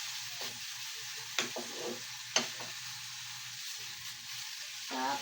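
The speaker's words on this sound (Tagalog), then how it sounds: "diretso na lang po natin ilalagay yung bawang. Halo-haluin hanggang bumango yung bawang." Garlic fries in a hot pan with a steady broadband sizzle, while a utensil stirs it in a few distinct scraping knocks against the pan, loudest near the middle and again at the end.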